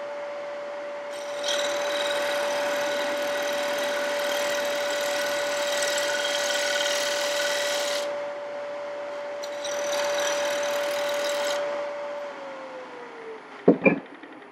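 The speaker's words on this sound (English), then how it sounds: "I take one of these long sweep gouges and shear scrape it" A long sweep gouge shear scrapes a spinning wooden platter on a lathe, a steady rasping hiss over the motor's constant hum in two long passes; the motor then winds down, ending with a couple of sharp knocks.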